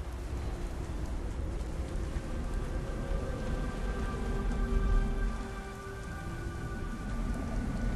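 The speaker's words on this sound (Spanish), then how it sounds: "Maldita lluvia." Steady, dense rainfall in the video game Beyond: Two Souls patters continuously with a low rumble underneath, with faint tonal hums in the background; no voices.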